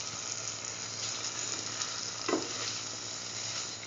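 Scrambled egg stir-frying in a pan gives a steady, close sizzle with a brief louder scrape of stirring partway through, with no voices.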